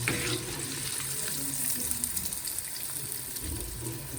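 Prawn tempura fries in hot oil with a steady, hissing sizzle and scattered small crackles that stay fairly quiet and even throughout, with no talking.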